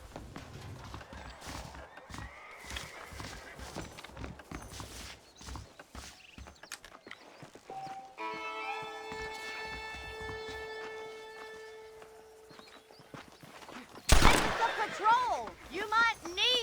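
Hooves clip-clop at a walk in an outdoor scene in the video game Red Dead Redemption, with voices talking, a horse whinnying, a sustained tonal wail midway and a sharp loud burst near the end.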